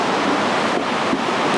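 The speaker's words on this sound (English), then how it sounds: "The waves look fun" Ocean surf at Bells Beach, Victoria, rolls in as a loud, continuous broadband wash with heavy wind buffeting the microphone.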